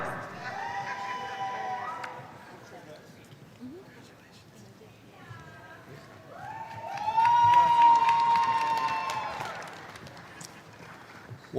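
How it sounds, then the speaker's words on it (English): A crowd cheers and whoops for bachelor's graduates of the Heller College of Business at Roosevelt University's fall commencement, with shouts swelling to a loud peak midway, then easing over a steady background murmur. "One last big round of applause for our bachelor's graduates from the Heller College of Business."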